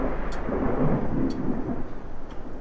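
Rain falls in The Nightfall survival horror game, a steady, dense downpour with a low, rumbling roar underneath. The noise holds at an even, fairly loud level throughout, with no talking.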